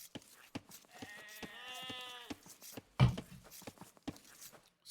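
Sheep in Age of Empires give a short, clear bleat near the middle, surrounded by scattered clicks and faint footstep-like taps, with no talking.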